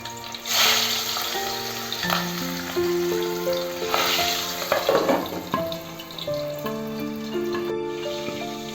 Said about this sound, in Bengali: তেল আমার গরম হয়ে গেছে। এবার আমি মাছগুলো আস্তে আস্তে ছেড়ে দিই।